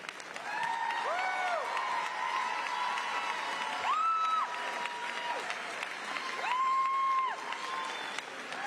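A crowd at the Navarro Early College High School class of 2024 graduation ceremony applauds honor graduates with sustained clapping, cheering and several long whistles rising above it.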